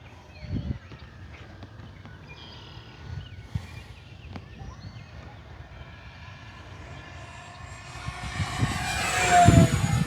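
An E-flite P-51D Mustang 1.2 m RC model plane flying at about 70% throttle, its electric motor whine faint and distant at first, then growing louder as it approaches with a rising buzz near the end.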